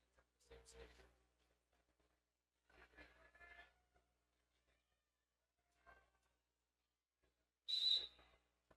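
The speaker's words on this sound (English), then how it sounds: "A lot of whistles blowing the last minutes of the last seconds of the last jam" Referee whistles at a roller derby bout between Rose City AOA and Happy Valley: scattered voices and crowd noise, then one sharp, loud shrill blast near the end.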